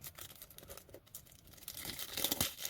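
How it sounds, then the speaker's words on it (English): Cellophane wrapping is torn and crinkled off a perfume box in short, crisp ripping bursts that grow louder toward the end, close by with no talking. "Why is it always a struggle to take the cellophane off?"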